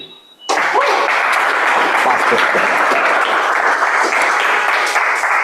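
Loud, sustained applause from an audience at a club meeting breaks out after a brief quiet moment and continues steadily throughout.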